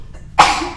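A single sharp sneeze bursts out after a quiet moment, loud and close, with a breathy trailing hiss.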